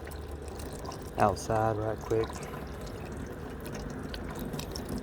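Water pours from a water bottle dispenser tap into a container in three short bursts. A voice speaks briefly.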